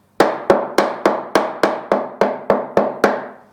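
Plastic screwdriver handle taps a Victorian rim lock eleven times in a steady, even rhythm, each knock a sharp, close, hard click with a short ringing decay, heard alone without talk.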